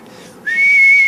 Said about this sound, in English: It took me years to whistle.